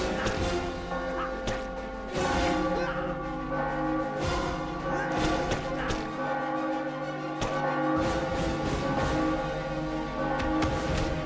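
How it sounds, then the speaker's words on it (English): Bells ringing in a bell tower boss fight against Venom in the video game Spider-Man Friend or Foe, loud repeated metallic clangs and crashes over continuous game music and effects. "Now get all of the bells ringing to finish him off."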